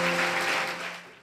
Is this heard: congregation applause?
yes